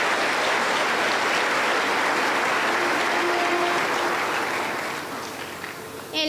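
Loud sustained applause from a Pentecostal church congregation at an anniversary service, welcoming a young women's choir, a dense roar of many hands that holds steady for about five seconds before easing slightly and picking up again.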